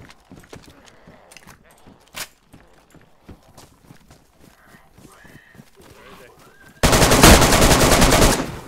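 Video game gunfire: scattered clicks and footstep-like thuds, then a sudden loud sustained burst of rapid shots near the end, with voices talking in between.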